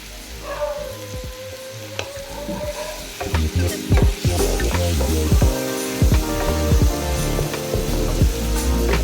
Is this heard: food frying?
yes